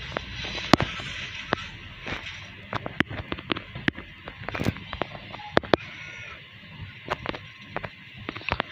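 Rapid gunfire cracks in a video game, scattered sharp shots firing in quick bursts and singles over a steady background hum, some loud and close.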